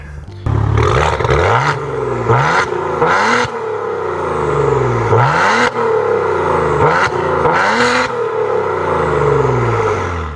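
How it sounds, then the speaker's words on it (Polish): A Maserati Ghibli SQ4's engine revs repeatedly and loudly, each blip rising sharply and falling away in a rhythmic series of roaring pulls close to the car. "Ten silnik ma brzmieć, on ma się fajnie wkręcać na obroty, on ma dawać frajdę z jazdy"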